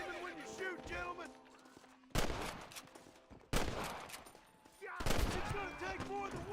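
Enemy gunshots in the Red Dead Redemption video game, three loud bursts of rapid fire breaking over a softer mix of game music and voice-like sounds.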